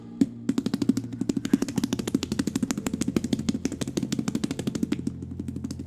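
A voice imitates a motorcycle starting up, delivering a long rapid train of sputtering, evenly spaced pulses close to the microphone.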